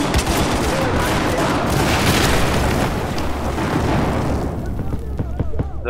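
Battlefield 4 combat on the Operation Locker map with mortar explosions and gunfire, dense booming blasts and rapid shots rolling continuously and loudly, thinning toward the end into scattered sharp cracks, with voices mixed in.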